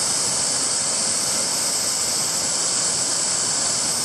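Small waterfalls spill into a grotto at Grayson Lake, making a steady, loud rush of falling water that fills the space without pause and carries no voices.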